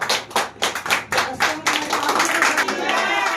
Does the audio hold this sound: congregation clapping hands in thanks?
yes